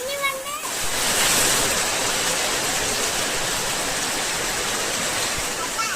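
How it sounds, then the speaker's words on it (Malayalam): Heavy rain pours down outdoors in a dense, steady roar that stays loud throughout, with a brief voice at the very start. "വെളിയിൽ നല്ല മഴയൊക്കെ കിട്ടുന്നുണ്ട് കേട്ടോ"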